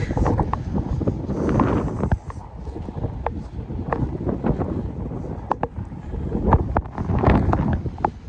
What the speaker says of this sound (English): More wind, which is a salient feature of today's walk.